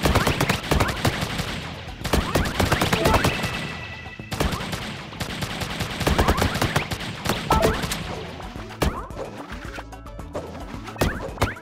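Gunfire in the Pang Adventures video game rattles out in dense, rapid bursts, loud and crashing, with brief pauses between volleys.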